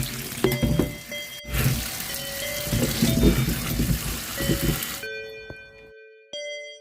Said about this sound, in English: Baby potatoes 500 gram. Wash them thoroughly.